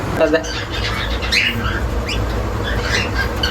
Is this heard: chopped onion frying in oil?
no